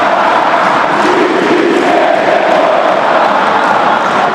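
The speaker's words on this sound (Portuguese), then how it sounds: "E com o passar do tempo, as vaias começaram a aparecer." Flamengo supporters booing in a packed football stadium, a dense, loud, continuous crowd roar with no breaks across the whole span.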